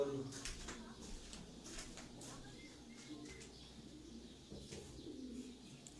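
Racing pigeons coo softly and repeatedly at a one-day pigeon-flying tournament, their calls faint beneath steady outdoor background noise and nearby voices.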